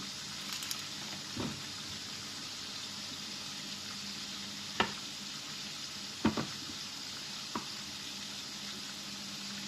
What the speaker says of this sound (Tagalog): Magprito pa po tayo ng ilang piraso pa para makita ninyo